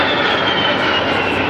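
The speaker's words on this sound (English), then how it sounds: "Now to pick up the down pilot comes the United States Air Force HH-60 Pavehawk" A US Air Force HH-60 Pave Hawk helicopter at an air show gives a loud, steady engine and rotor roar that stays constant and close throughout the short stretch.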